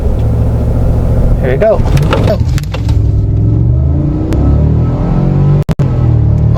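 A Cadillac Escalade pulls away hard from a stop, its engine a loud continuous rumble under the driver's voice, followed by a couple of sharp knocks near the end.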